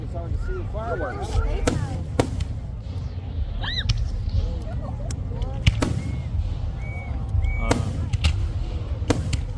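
A Fourth of July fireworks show at Fort Moore in smoky, foggy air: scattered sharp distant bangs and pops with occasional whistles, set against crowd noise and voices.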